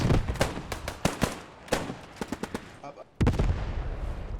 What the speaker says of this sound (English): Artillery coming in. Not quite sure whose artillery that is.